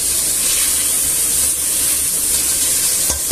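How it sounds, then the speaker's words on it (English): Chunks of pork stew meat browning in a hot pan, a loud, dense, continuous sizzling hiss with little variation and a faint knock near the end. "brown the meat all over"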